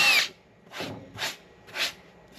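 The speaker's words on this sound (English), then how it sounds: "you're going to pre-drill the holes" A power drill pre-drills holes in a boat deck for a V Marine low-profile tie-down bolt, stepping up through bit sizes. Four short, whirring bursts come close by with brief pauses between them.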